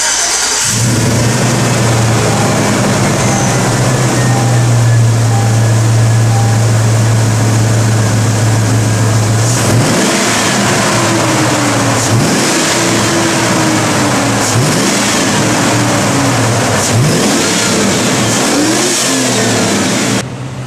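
A GM truck engine fitted with an AIRAID MXP intake idles loud and close, then revs repeatedly in several rising and falling bursts of throttle, with no talking.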